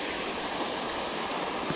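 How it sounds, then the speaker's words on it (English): Waterfall at a fishing spot known for largemouth bass, heard as a steady, dense rush of falling water with no gaps, fairly close and continuous throughout, with no voices over it. "But this is the infamous waterfall"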